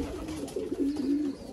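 A blue hen pigeon with white flight feathers gives a short, soft cooing call, clear and close, with no talking.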